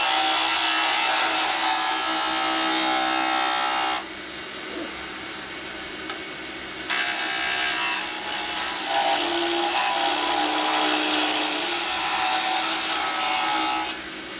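A skew chisel cuts a wooden whistle spinning on a wood lathe, giving loud scraping, hissing bursts with a pause between them, then a quieter stretch of cutting before another strong burst.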